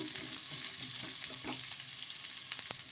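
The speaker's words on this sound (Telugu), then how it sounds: "ఇలా ఆనియన్స్ కూడా మగ్గేలాగా తీసేసుకోవాలి." Sliced onions and green chillies frying in a pan for chutney, a soft, steady sizzle with faint stirring scrapes, quiet and close, no voices.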